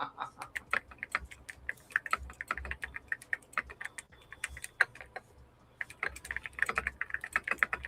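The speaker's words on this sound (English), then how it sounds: "He's typing." Computer keyboard typing, quiet and fairly close, a steady run of rapid irregular clicks with short pauses and a few heavier key strikes, no talking.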